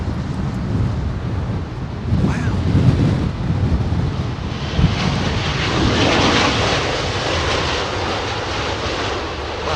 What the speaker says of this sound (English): piloting the British Airways A350